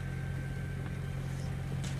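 A sailboat's motor runs steadily at cruising speed while under way toward Barcelona, a continuous low droning hum with a faint tonal whine, close and even, with no talking.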